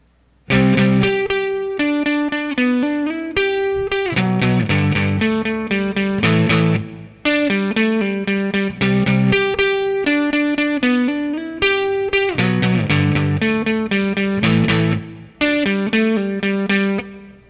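An electric guitar plays a repeating chorus riff of bright, clean picked notes in steady phrases, loud and close with brief gaps between passages.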